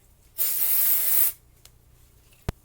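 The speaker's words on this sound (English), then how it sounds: "I like to spray like right at the root." A single burst of aerosol hair product spray hisses for about a second, close and bright, followed by quiet and a small tap.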